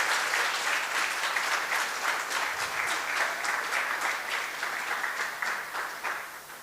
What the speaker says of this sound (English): Please, big round of applause. Big round of applause.